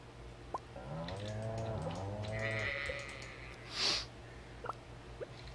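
Goats bleat in Stardew Valley, a run of wavering, harmonic calls over a steady low hum, followed by a sharp bright snort and a few faint clicks, with no talking.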